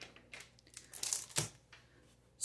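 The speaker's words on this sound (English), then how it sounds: "let's move the paper out of the way." Packing paper pushed aside while unboxing a subscription box, giving a few short, close crinkling and rustling bursts that come and go quietly, with no talking.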